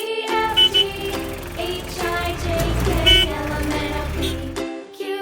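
A taxi horn sounds as a children's vehicle sound effect, with loud tonal honks over a low engine rumble and a busy musical background for about four seconds before cutting off.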